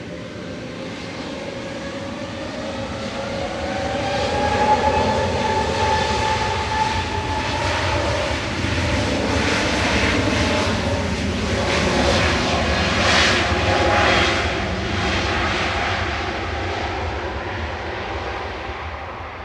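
A Finnair Airbus A350 jet roars past at Manchester Airport. The engine roar is loud and sustained, swelling and shifting in pitch as the aircraft moves, with no voices.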